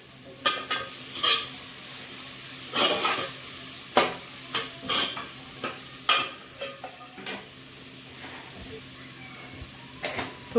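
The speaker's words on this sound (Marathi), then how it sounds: "आणि इकडे आपलं भाज्या सुद्धा छान अशा फ्राय होत आहेत" Vegetables fry in a pan with a steady low sizzle, broken by repeated sharp scrapes and knocks of a stirring spoon against the metal, close and fairly loud, with no talk.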